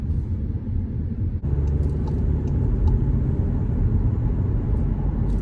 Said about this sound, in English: So the Arteon, it gets up to speed pretty fast.